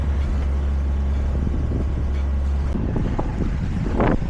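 A Yanmar 30 boat engine cruising at around 1800 to 2000 RPM at about six knots, a steady low drone joined by wind and water noise, with louder splashing toward the end.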